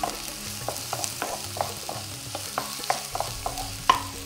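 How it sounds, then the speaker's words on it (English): Onions frying in a pan with mustard seeds, sharp irregular pops and crackles over a soft steady sizzle, close and fairly quiet, with no talking. "I'm going to now add in the onions and let that cook in there"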